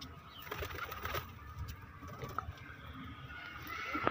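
Madrasi pigeons coo softly in a loft, with low, murmuring calls and a few small clicks and rustles in a fairly quiet setting.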